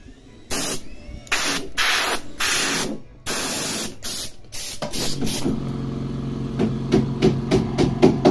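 A Lakoni oil-less air compressor blasting air in several loud hissing bursts of varying length, followed by a series of short rapid puffs and a steady low motor hum.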